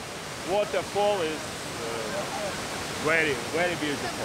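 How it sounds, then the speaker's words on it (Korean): Datanla Falls, a long terraced cascade in Da Lat, Vietnam, gives a steady broadband rush of falling water, with people talking intermittently over it. "마침내 웅장한 폭포가 그 위용을 드러낸다."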